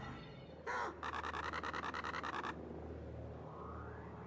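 Bird calls in the Paper Mario: The Thousand-Year Door video game: a short chirpy burst followed by a rapid, evenly spaced run of squawking notes, bright and close, with game sound continuing quietly beneath.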